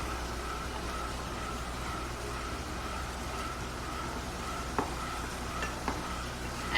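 A pan of Mughlai chicken gravy is stirred as it cooks, giving a continuous close sizzle with a soft scraping texture and a couple of small knocks near the end.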